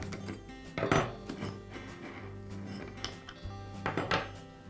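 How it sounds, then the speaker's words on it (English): A spanner wrench clinks against the flange nut of a Milwaukee angle grinder, with two sharp metallic knocks about three seconds apart over a quiet, close background. "I'll use the spanner wrench to remove the nut."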